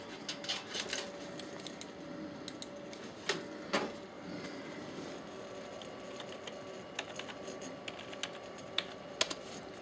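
Someone types a password on a computer keyboard after parts are moved into a new case: quiet, irregular key clicks with a few sharper taps, close by over a faint steady hum, with no talking.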